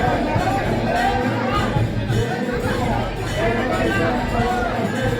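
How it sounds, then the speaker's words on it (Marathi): Devotees crowd together at the Bhairavnath temple fair in Varugad, making a steady, dense hubbub of many overlapping voices in a continuous wash of chatter. "भाविकांची गर्दी होत असते. ही गर्दी आपण पाहतो."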